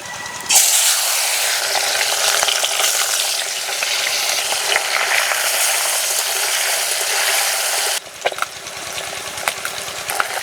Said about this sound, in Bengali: তেল থেকে ধোঁয়া ছেড়ে দিয়েছে। এবার দিয়ে দেব নুন হলুদ মাখানো মাছ।